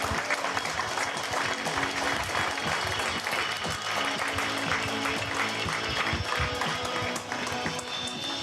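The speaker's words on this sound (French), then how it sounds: "Vous allez applaudir monsieur Alain Juillat" Steady crowd applause for Alain Juillat, a regional committee president, at a pétanque festival final in Saint-Juéry, sustained and fairly loud throughout with scattered sharper claps and faint background voices.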